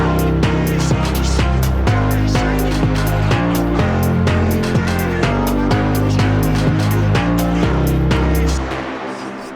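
A dense, loud bass house groove without sidechain compression: a pounding kick and heavy sustained bass that never dips, everything crowding together at full level before cutting off at the end.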